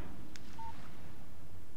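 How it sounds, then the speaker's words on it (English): A short electronic phone tone for an incoming text message in Alan Wake: a single brief beep over a low steady background hum, fairly faint. "Text message from Barry."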